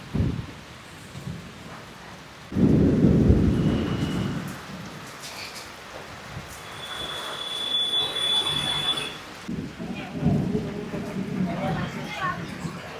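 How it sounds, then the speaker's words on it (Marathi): Heavy rain pours down in bursts near Panvel in Maharashtra, with low rumbles that fit thunder swelling up at intervals. People talk now and then over the storm. "ऐकला का विजेचा आवाज?"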